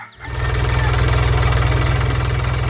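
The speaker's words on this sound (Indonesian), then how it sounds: "Lihatlah itu, traktor hijau bermain di tengah sawah hijau, menggembur tanah dengan roda kuning yang ceria." A steady, throbbing engine runs close by, its low rhythmic chug continuous and loud throughout, with no voices.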